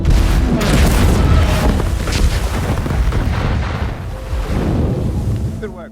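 A large explosive charge set by divers on a ship goes off in a loud, sustained booming roar with rolling low rumble, fading slightly at the end.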